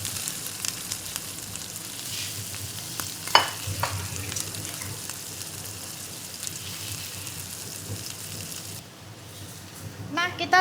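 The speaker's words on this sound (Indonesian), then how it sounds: "Kita masukin ayam yang kita udah goreng tadi." Previously fried chicken pieces go into a hot pan for sweet soy-sauce chicken, giving a steady dense sizzle with scraping and stirring clatter, a sharper knock near the middle and a brighter clink near the end.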